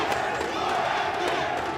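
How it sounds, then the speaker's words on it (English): Crowd at an esports watch party for a mobile battle royale final, a dense, steady roar of many voices chanting together with occasional sharper shouts, loud and continuous throughout. "The crowd is chanting before MV."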